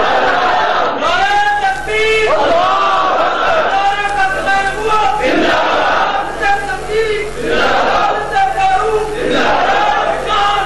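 A large crowd shouts slogans in loud, repeated bursts of massed voices and battle-cry chants, continuous and close throughout, at a religious gathering honouring Ata Ullah Shah Bukhari and Haq Nawaz Jhangvi.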